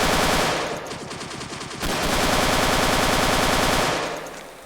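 Heavy machine gun in the game RMC-14 firing long, loud sustained bursts of rapid shots, with a short break partway through before the fire resumes and carries on to the end.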